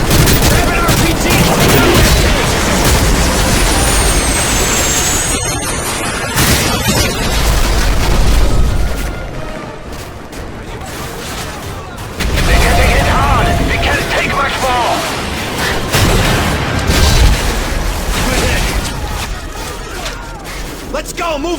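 Russian tank fire and explosions on a bridge in a Call of Duty battle, heavy booms and bursts of gunfire rolling through, with shouted voices over the din and a brief lull midway.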